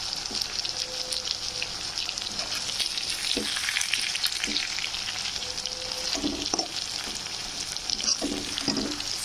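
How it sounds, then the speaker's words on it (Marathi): Stuffed capsicum fries in a pan with a steady, loud sizzle throughout, broken by occasional soft clicks and stirring scrapes close by. "ही फ्राय व्हायची राहिली थोडीशी, ही पण फ्राय व्हायची राहिली."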